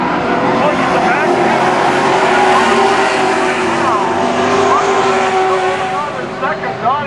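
Pro stock race cars roar around Canaan Speedway, a loud continuous engine drone with passing cars sweeping by, while an announcer talks over the racing.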